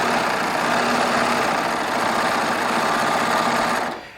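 A Baby Lock Triumph serger running through fabric: a steady, loud, close mechanical whir at constant speed that winds down and stops at the end, with no talking.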